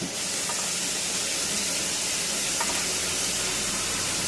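Tomato, potato and peas sautéing in a hot pan for a hotel-style kuruma, a steady broadband sizzle and hiss running evenly throughout with no talk.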